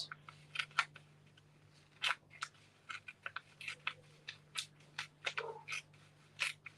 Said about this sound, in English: we're just going to come in and tear it